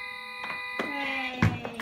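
Several electronic toy beeps with steady tones sound in quick succession, close by, with brief sharp button clicks between them.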